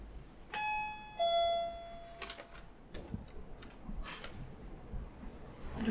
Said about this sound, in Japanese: とりあえずチャイム